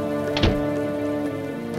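Heavy rain falls during a night storm, a dense steady patter on surfaces with a brief louder thump early on and no voices.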